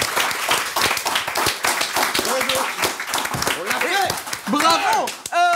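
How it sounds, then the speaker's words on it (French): A studio audience claps in a brisk, dense burst that holds steady, with cheering and voices rising over it toward the end. "Est-ce que je peux vous demander un tonnerre d'applaudissements pour Yacine et Laurent?"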